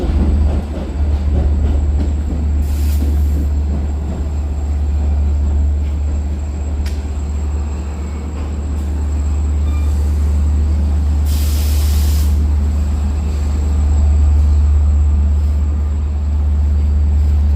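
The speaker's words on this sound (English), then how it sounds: "That's D30C number 416 leading. I bet you that's the Spion diesel." A train led by a D30C diesel locomotive passes close, a heavy continuous low rumble with rolling wheel noise, brief hissing bursts and a slight swell near the end.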